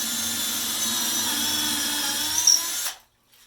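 Power drill boring holes into a piece of wood, a close, loud, steady high whine that runs for about three seconds before cutting off abruptly, with no talk.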